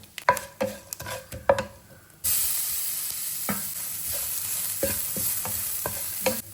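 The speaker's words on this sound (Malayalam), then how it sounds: "അല്പം മഞ്ഞൾ ചേർത്തിട്ട് അരപ്പോടെ ചേർത്ത് ഒന്ന് മിക്സ് ചെയ്യുക." Dried chillies, curry leaves and turmeric being stirred in a hot pan: a few sharp taps and scrapes, then a loud, steady sizzle bursts in and continues under repeated stirring strokes.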